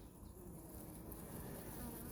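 Honey bees, a Buckfast colony, buzz steadily over a brood frame lifted from the hive. The hum is soft and continuous with no voices.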